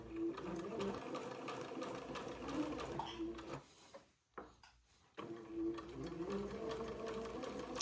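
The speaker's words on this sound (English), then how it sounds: "I'm going to sew the second pass of the French seam." A sewing machine stitches the second pass of a French seam on a baptismal gown slip, running steadily and close for several seconds, pausing briefly midway, then resuming its continuous mechanical whir.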